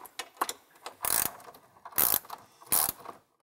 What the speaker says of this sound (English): we're gonna go ahead and take these bolts out real quick.